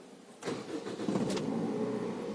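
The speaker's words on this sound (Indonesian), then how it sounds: "kita injak koplingnya baru kita hidupkan mobilnya" A car engine cranks and catches with a short sputter, then settles into a steady low idle, close and moderately loud, after the clutch is pressed during a beginner driving lesson.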